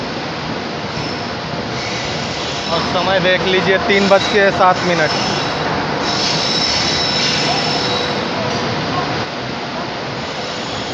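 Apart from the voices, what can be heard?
Ekta Express train arriving at Chandigarh platform 3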